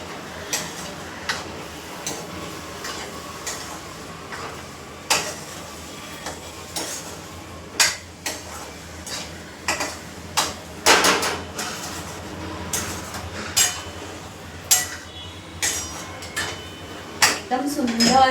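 A spoon scrapes and taps against a pan while stirring mango sheera, with sugar melted in, repeated sharp clinks coming about every second over a low kitchen background with some voice present.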